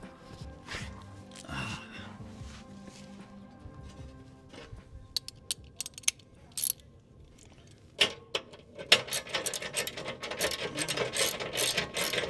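Bolts being tightened on a Rival 4x4 skid plate during installation on a Ford Maverick, heard as bursts of ratchet clicking, sparse and quiet at first, then denser and louder metallic ratcheting toward the end.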